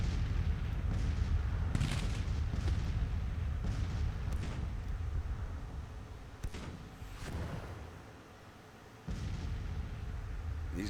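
Cannon and musket fire rumble through a Civil War battle in Grand Tactician: The Civil War, deep booms and crackling volleys rolling one after another at a distance, easing briefly before resuming.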